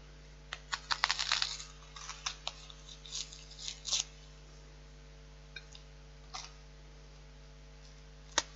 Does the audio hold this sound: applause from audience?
no